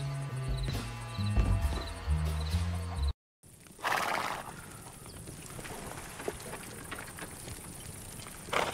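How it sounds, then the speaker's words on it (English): A horse in the video game Desperados III whinnies over a backdrop of music, then a break, followed by rustling ambient noise with another neigh-like cry in the distance. "And Wayne's not the youngest horse in the shed."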